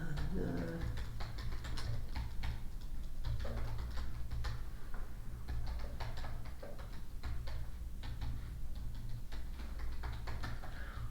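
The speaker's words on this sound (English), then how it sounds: "am I typing too loud?" Rapid keystrokes clatter on a computer keyboard during a policy committee meeting, close and continuous with irregular bursts, over a low steady room hum.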